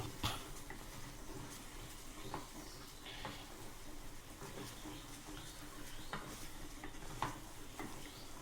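Ragi flour stirred in a hot pan with a wooden rolling pin, a faint, soft sizzle with light scraping and tapping strokes recurring through the stretch, no talk.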